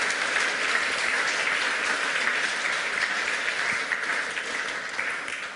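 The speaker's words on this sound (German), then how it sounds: "Applaus bitte mal" Steady, dense audience applause fills a lecture hall at a hacker conference talk on EU data protection, loud and continuous throughout, tapering slightly near the end with no speech over it.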